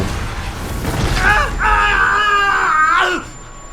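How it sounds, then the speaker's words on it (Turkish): An explosion in the horror video game Outlast: a heavy booming blast with a ragged, screeching, wailing tone riding over it, loud and close, lasting a few seconds before dropping away. "Çok kötü bir patlama oldu"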